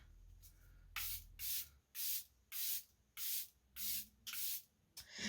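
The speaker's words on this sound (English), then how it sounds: "I'm just going to spray this all over my face." A fine mist of makeup setting spray fires seven quick, even bursts onto a face in a steady rhythm, each a short close hiss separated by brief pauses.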